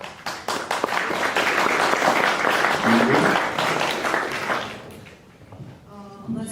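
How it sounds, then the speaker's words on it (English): A hackathon audience applauds a team with steady, full clapping for about five seconds, then the clapping dies away and a person starts talking. "A round of applause for"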